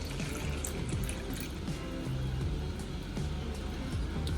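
Water poured into a container to mix film developing chemicals, a steady watery rush and trickle running continuously at close range throughout.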